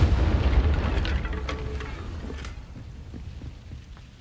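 A Confringo fire spell explodes in the Hogwarts Legacy video game: a loud, booming blast that rumbles and slowly fades over a few seconds, followed by faint crackling debris, with no voices.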